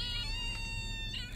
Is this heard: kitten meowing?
yes